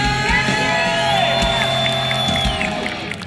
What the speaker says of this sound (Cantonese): 你最大嘅掌聲